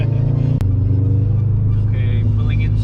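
Engine of a dyno-tuned 2020 Subaru STI pulling on a road, a steady low rumbling drone with harmonic tones, close and loud inside the car, with a brief sharp click early on and faint voices over it.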